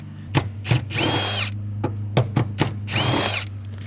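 A power drill spins out two 10mm bolts inside a Nissan 370Z in two loud whirring bursts, each with clicks and clanks of the tool and parts around it, close and with no talk.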